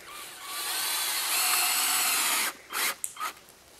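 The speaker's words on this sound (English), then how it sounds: "So I'm going to screw this 2x4 down." A power drill drives screws to fasten a 2x4 board down before a cut on rough lumber, a steady whining motor run lasting a couple of seconds followed by a few short bursts as the screw seats, close and alone.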